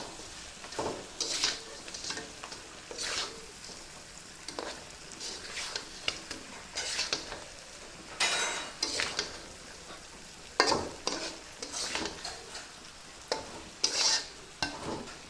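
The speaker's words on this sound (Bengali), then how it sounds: "এখন হালকা একটু দুটো নাড়া দিয়ে নামাই নিব।" Fried puti fish being stirred in a pan with cooked-down spice masala and released oil, producing repeated scraping stirs over a steady sizzle, close and moderately loud, with no talking.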